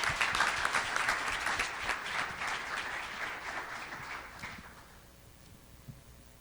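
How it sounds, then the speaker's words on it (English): An audience at a pitch event applauds Carter with steady, fairly close clapping that gradually thins and fades out toward the end. "Let's give one more round of applause for Carter"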